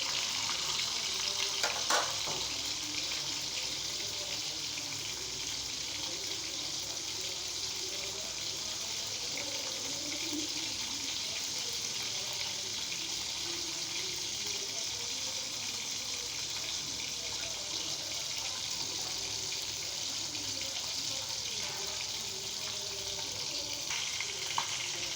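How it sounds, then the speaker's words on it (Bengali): Taki fish fry in hot oil, making a steady, faint, hissing sizzle that runs unbroken and fairly even throughout, with only a couple of tiny clicks near the start. "দেখো কি সুন্দর করে মাছগুলো ভাজা হচ্ছে"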